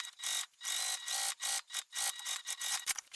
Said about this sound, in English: Either way you choose, you will top stitch from one side to the other, about 1/8 of an inch away from the folded edge.